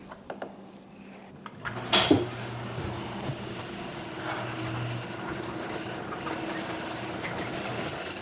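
A garage door opener, fitted with new quieter rollers and a hinge system, raises the door with a steady low mechanical drone. A sharp clack comes near the start, then the motor hum runs on evenly to the end.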